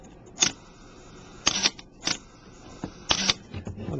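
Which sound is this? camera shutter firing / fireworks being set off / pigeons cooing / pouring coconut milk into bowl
camera shutter firing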